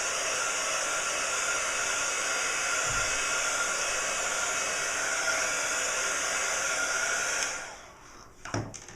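A heat tool blasting embossing powder on cardstock gives a steady, loud, close whirring blow with a high whine. It cuts off near the end, followed by a few soft handling knocks.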